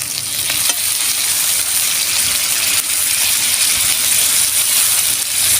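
Whisked sour yogurt hits a pan of oil-released spice masala for doi potol, setting off a loud, steady sizzle with stirring scrapes throughout, close and continuous without any voices.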